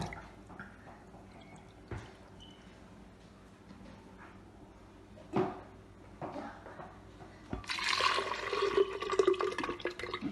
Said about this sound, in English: So I'm going to be pouring it in the blender.